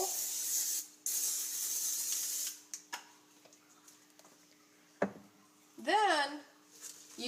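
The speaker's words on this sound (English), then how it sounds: "you'll need to spray a casserole dish with olive oil." Olive oil sprays into a casserole dish in two longer hissing bursts near the start, followed by quieter ticks and a clunk. A voice later rises briefly.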